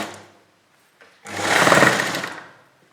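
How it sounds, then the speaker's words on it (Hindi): Sewing machine stitching a strip of kurti fabric: a short click, then a close, loud whirring run of about a second and a half that rises and fades. "अब हम इस पट्टी को इस तरफ टर्न कर कर इस पट्टी के ऊपर सिलाई लगा देंगे।"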